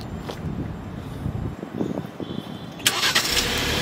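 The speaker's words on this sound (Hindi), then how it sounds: "यहाँ से आप कार डायरेक्टली लाइक इंजन इसका ऑन कर सकते हैं।" A 2024 Jeep Wrangler engine cranks and catches near the end after a quiet stretch of low rumbling background, firing up with a sudden close burst that settles into a steady run.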